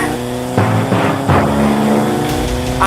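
A car races along with failed brakes, its engine roaring loud and close in a sustained, harmonic-rich drone that surges and shifts pitch for a few seconds.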